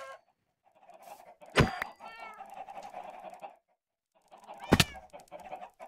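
Chickens cluck in a Minecraft multiplayer survival server, a few short squawking bursts with quieter clucks between them, fairly close and alone with no talk.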